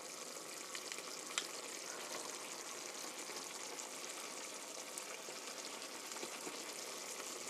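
Pork stew bubbles and sizzles steadily in a pot as it is stirred, a dense, even frying hiss with faint scraping and no speech.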